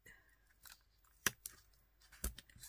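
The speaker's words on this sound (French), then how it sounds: "Je vais venir mettre du scotch là." Adhesive tape is torn off and pressed onto cardboard for a craft project. Sharp, brief ripping snaps stand out against near-quiet, with one especially crisp tear followed by softer crackles and handling noises, all close and fairly faint.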